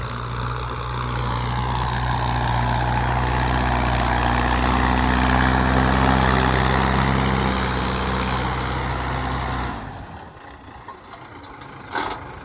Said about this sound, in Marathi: ट्रॅक्टर पेरणी यंत्र.